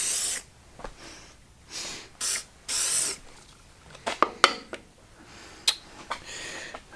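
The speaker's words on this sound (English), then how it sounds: "I'll just give this a spray here." Several short, hissing bursts of aerosol spray onto the crankshaft of a 440 engine being rebuilt for a 1974 Dodge Challenger, close up, separated by pauses and followed by a few metallic clicks and taps.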